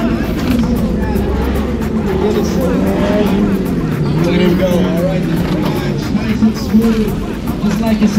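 A red Mitsubishi Mirage race car runs a slalom course at a sprint event. The engine revs rise and fall steadily through the turns, loud and continuous, under a public-address voice and crowd babble.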